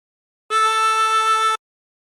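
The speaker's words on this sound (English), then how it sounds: "breathe in through 3 and bend the note to produce A" Single harmonica note drawn on hole 3 and bent down to A, a steady clean tone held alone for about a second with slight wavering.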